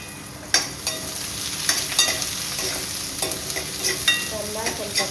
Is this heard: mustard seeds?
yes